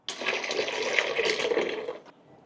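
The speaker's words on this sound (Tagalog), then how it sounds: "Tsaka natin sasagatin yung binlender nating malunggay." Blended moringa juice pouring through a strainer, a steady liquid rush for about two seconds that cuts off abruptly, close and moderately loud, alone.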